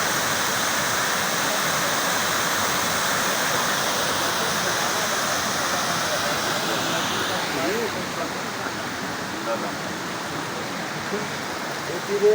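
Mountain stream flowing below a road in the Kaghan–Naran area, a steady rushing wash of water that thins slightly partway through, heard alone without talk.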